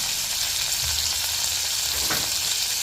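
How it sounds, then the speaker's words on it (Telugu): Hot oil sizzles loudly and continuously as a tempering with curry leaves cooks, a bright crackling hiss with a faint stirring thump partway through. "తాలింపు వేసాము కొంచెం కరివేపాకు కూడా వేసుకున్నాము"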